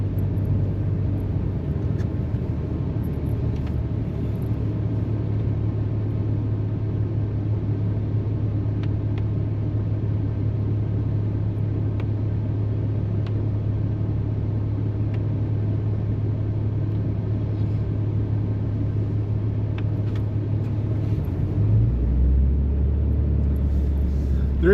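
A car approaches and passes on a narrow, snow-covered West Virginia mountain road after a storm, a steady low engine and tyre rumble that holds throughout and shifts near the end as it goes by, with a person talking quietly over it.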